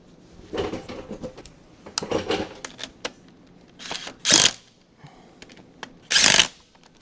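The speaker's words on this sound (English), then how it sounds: "So let me screw this on." Metal clinks and scraping come from screwing a seal installation tool onto the rear of a John Deere 4020 tractor, as a few sharp taps, short rubs and two louder rasping bursts with quiet gaps between.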